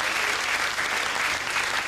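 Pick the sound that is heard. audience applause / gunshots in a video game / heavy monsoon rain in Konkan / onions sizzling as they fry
audience applause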